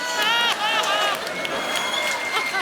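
A comedy show audience breaks into loud, continuous applause and cheering, a dense crowd wash of clapping with a voice calling out over it.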